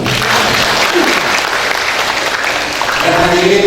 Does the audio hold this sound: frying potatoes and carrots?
no